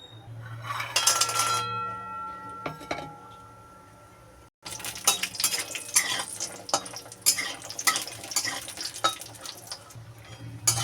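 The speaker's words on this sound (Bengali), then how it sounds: "রিফাইনটা দিয়ে আমি বড়িটা আগে ভেজে নেবো" Lentil dumplings fry in refined oil in a wok, first with a few clinks of utensils, then a brief pause before a loud, busy sizzle with stirring and scraping sounds close by.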